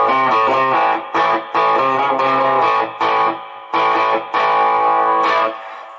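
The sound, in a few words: electric guitar with overdrive effect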